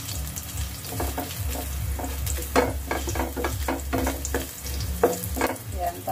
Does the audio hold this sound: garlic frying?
yes